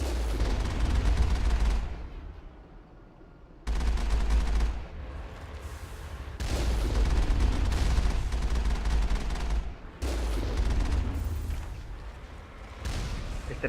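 Gunfire in the video game Mass Effect comes in loud, dense bursts of rapid booming shots separated by short quiet gaps, with a heavy low rumble under each volley.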